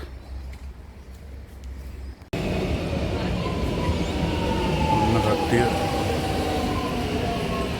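A train rumbles in loudly and continuously with a faint squeal of wheels, while a person speaks briefly over the noise.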